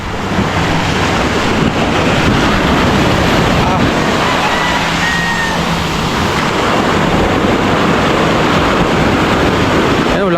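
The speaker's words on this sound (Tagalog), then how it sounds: "lakas pa rin ng alon" Strong sea waves roll and crash in a loud, continuous roar, mixed with gusty wind rumble on the microphone, as voices talk faintly underneath.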